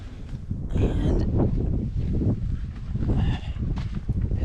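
Gusty wind buffets the microphone on a blustery morning outdoors, a steady low rumble with swelling gusts, with no voices.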